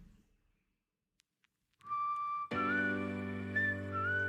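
A faint steady whistle begins, then music with sustained tones and a whistled melody comes in over it; no one speaks. From a music video.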